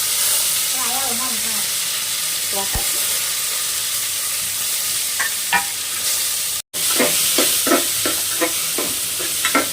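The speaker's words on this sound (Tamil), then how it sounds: "தக்காளி வெங்காயம் நல்லா வதங்கணும்" Tomatoes and onions sauté in a pan for a lentil dumpling curry, a loud steady close sizzle throughout, with scattered clinks of a spoon stirring against the pan.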